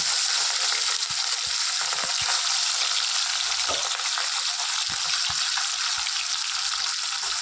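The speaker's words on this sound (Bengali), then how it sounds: "কড়াটা গরম করে মাছগুলো ভেজে নিচ্ছি।" Katla fish fries in a hot wok with a loud, dense, continuous hiss and crackle, close up, with occasional soft knocks and no talking.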